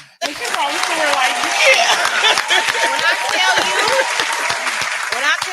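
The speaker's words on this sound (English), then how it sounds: "I'm clapping." Steady, close hand clapping runs almost the whole length during a podcast conversation, with soft chuckles and speech mixed in.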